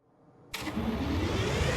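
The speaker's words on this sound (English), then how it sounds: "Let's restart the engine." Train engine in the Farming Simulator 25 video game restarting after refuelling: a sudden loud start at about half a second settles into a steady, close mechanical rumble with no talking.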